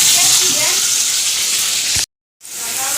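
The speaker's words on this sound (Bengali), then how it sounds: "প্রত্যেক কটা চিকেন ভেজে নিচ্ছি" Chicken pieces frying in a pan, a loud steady sizzle that cuts off abruptly for a moment, then resumes.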